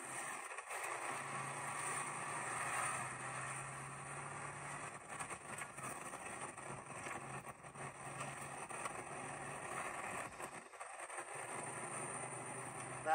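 Car engine working steadily under power while driving slowly uphill on a road into town, a continuous low rumble heard from inside the cabin with no talking.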